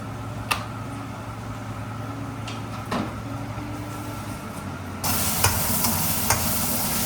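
Onions and potatoes fry in oil in a pan for poha, giving a steady soft sizzle with a few stirring clacks and a louder burst of sizzling toward the end; no talk.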